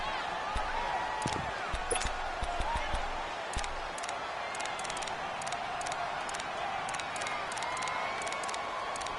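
Stadium crowd noise from a PS4 football video game swells steadily in the background for the whole stretch, with scattered cheers and whoops rising over a constant roar and a few thumps in the first seconds.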